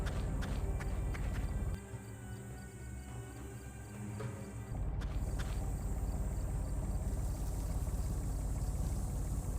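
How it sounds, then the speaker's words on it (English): A boat engine in the video game Secret Files 3 runs with a steady rhythmic thrum and clatter, dips briefly, then resumes, with no voices. "Yep, that might be the engine I heard in the video."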